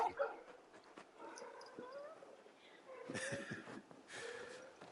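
Faint dog whimpers and soft yips from a large hound-like dog companion in a fantasy video game, several brief whines scattered across the clip over quiet ambient background.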